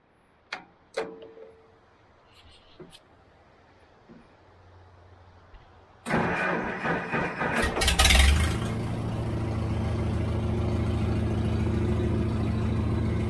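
A Farmall 350 tractor engine cranks over and catches, settling into a loud, steady idle close by, preceded by a few quieter clicks and handling noises.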